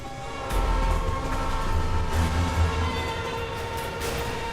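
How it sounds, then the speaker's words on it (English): Video game train rumbling through a tunnel, a loud low roar that swells after the first half second and rolls on steadily, with faint metallic clatter and horn-like tones above. "I'm gonna bait the train."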